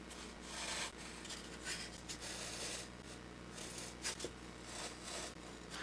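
A hacksaw cuts through diorama game-terrain material in quiet, rhythmic back-and-forth rasping strokes, close but soft, with no other sound.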